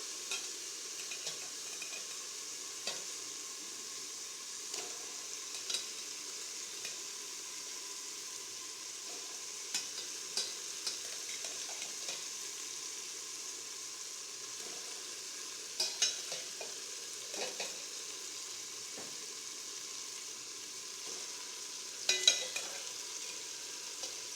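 Chicken pieces fry in a pan for biryani, giving a steady low sizzle with occasional stirring scrapes and a few louder clinks near the end; no one speaks.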